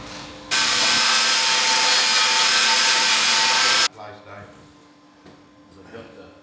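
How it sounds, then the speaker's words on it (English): An angle grinder grinding off old welds and patch plates on a Series 3 Land Rover, a loud continuous metallic whine lasting about three seconds before cutting off abruptly, followed by quieter workshop noise. "I'm just going to grind off these welds here, and these old plates that have been put on at some point"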